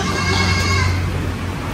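A female dairy goat on a farm gives a single drawn-out bleat, close and fairly loud, with faint background noise around it.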